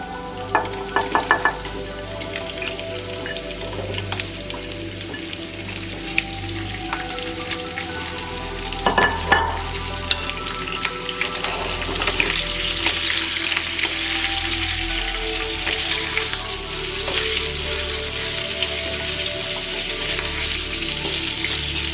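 Baby potatoes with salt sizzle and crackle steadily as they fry in a pan, a dense continuous hiss with occasional louder pops and stirring scrapes, close and alone throughout.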